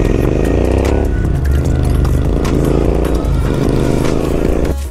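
A Royal Enfield Interceptor 650 motorcycle runs loud and close on an off-road jungle trail after a fall, its engine throbbing and revving steadily with rattles and scrapes over a rough low rumble.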